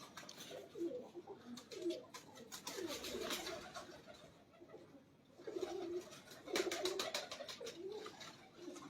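A white pigeon coos in repeated soft, throaty phrases, close but quiet, with a brief lull in the middle before the calls resume and some light rustling between them.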